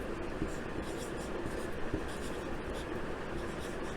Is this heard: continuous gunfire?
no